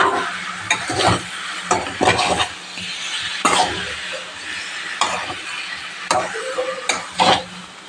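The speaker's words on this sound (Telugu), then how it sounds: "కింద నుంచి బాగా కలుపుకోవాలి." Chicken curry stirred in a pan, a low sizzle under repeated scraping strokes of a spoon against the metal, with a few light clinks, close and moderately loud, no talk.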